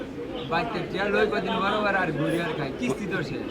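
Pigeons coo at a busy pigeon market in Bangladesh, their soft calls steady under close, continuous talk from traders and buyers.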